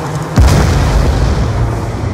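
Explosion striking a target in Call of Duty: Black Ops, a single heavy boom near the start followed by a long rumbling decay, loud and alone without speech.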